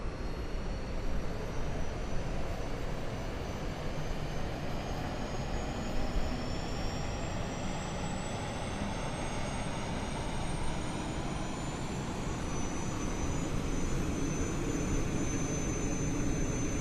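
An Airbus A380 engine starting up in a flight simulator game gives a steady, broad whooshing roar with a faint rising whine, constant and moderately loud throughout, with no voices.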